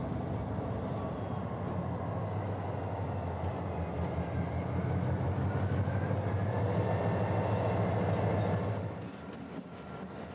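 A Union Pacific West Local freight train backs up a spur on the Moffat Line, a steady low rumble of rolling cars with a long, thin wheel squeal gliding above it, easing off near the end.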